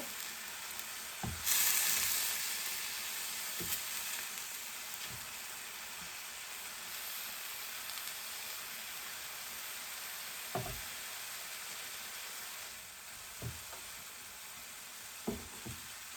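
Kale sautés quietly in a pan with a soft, steady sizzle like light rain, punctuated by a few sharp utensil knocks and scrapes spread across the stretch.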